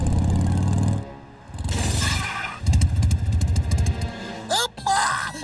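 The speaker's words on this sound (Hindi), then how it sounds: "वो रही मोटरसाइकिल।" A cartoon motorcycle engine revs and roars loudly in the Motu-Patlu animated series, with clattering effects and a whooshing sweep near the end.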